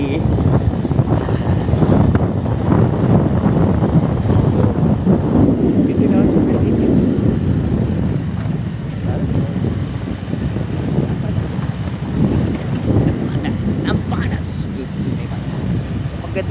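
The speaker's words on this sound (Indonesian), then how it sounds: "Kita mau pulang naik motor air lagi." Small motorboat running along a river near Teluk Pak Kedai, its engine drone steady and close beneath rushing wind buffeting the microphone, with people talking over the noise.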